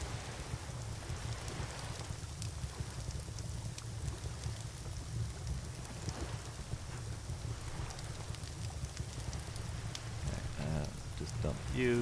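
Steady rain falling in the survival video game Under a New Sun, a dense, even patter that runs continuously at a moderate level, with a few faint clicks and soft tones near the end.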